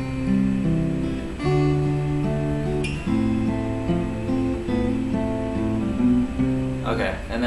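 Guitar picking a passage: a close, clear run of single notes and arpeggiated chord tones in a steady flowing rhythm, with no talking over it.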